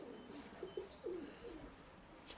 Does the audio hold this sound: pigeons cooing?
yes